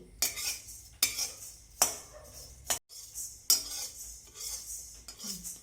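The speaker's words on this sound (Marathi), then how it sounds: "याच्यामध्ये आता आपण धने भाजून घेऊ." Whole coriander seeds being dry roasted in a pan with a metal spoon, giving repeated scraping and stirring clatters in irregular bursts, close and fairly quiet, with no talking.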